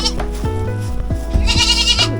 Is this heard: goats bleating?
yes